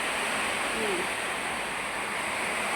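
Heavy rain pours steadily onto a house roof in a continuous broadband hiss, with water from roof leaks dripping indoors, loud and unbroken throughout with no pauses.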